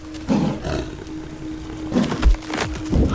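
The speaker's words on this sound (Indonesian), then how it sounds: "mendengar suara auman yang memecah keheningan hutan" A tiger roars in a forest, with deep, rough growling bursts that come in repeated surges, loud and close over a constant low hum, with no talk.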